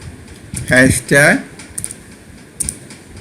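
A few light, quick computer keyboard taps sound close by after a short spoken word, scattered as brief clicks over a quiet room hum.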